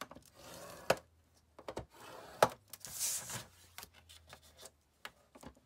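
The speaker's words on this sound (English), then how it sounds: "all we're going to do is score these guys at 1/2 inch on all 4 sides" Paper squares are scored along half-inch lines, giving short scraping strokes and a few sharp taps, quiet and close, with pauses between passes.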